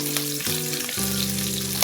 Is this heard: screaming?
no